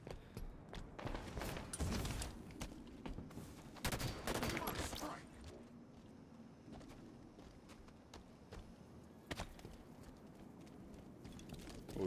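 Rapid bursts of gunfire crackle in a Halo 5: Guardians SWAT multiplayer match, sounding faint and clustered, with quieter gaps and people talking over it.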